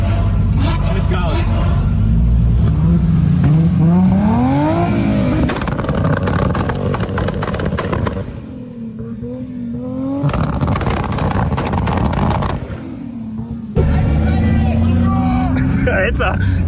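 A 1000 hp Toyota Supra race car roars around a track at a trackday, engine notes rising and falling through gear changes and passing by, while excited voices talk and cheer over the noise.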